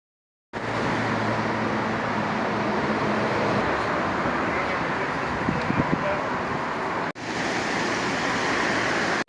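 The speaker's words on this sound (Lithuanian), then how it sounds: "Kokia kalnų upė." A mountain river in Andorra, high in the Pyrenees, rushes in a loud, steady roar close by, with only a brief dropout near the end.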